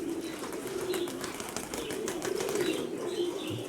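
Pigeons flutter and flap their wings as they land, a busy rustle of wingbeats close by with faint cooing in the background.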